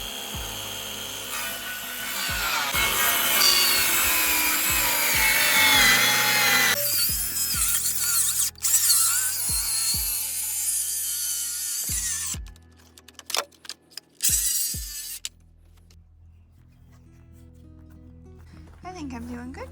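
Wood being cut for a homemade DIY table gives a loud, sustained rasping roar that runs for about twelve seconds with knocks along the way, then breaks into scattered clunks and handling noises before going quiet.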